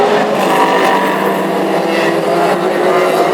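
Classic hot rod cars race round a damp oval at Hednesford, a loud continuous engine roar from close by with no break throughout.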